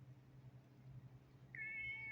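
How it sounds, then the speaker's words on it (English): A friendly kitty met outdoors gives one clear, drawn-out meow late on, close and distinct above a quiet low ambient hum. "Very friendly kitty."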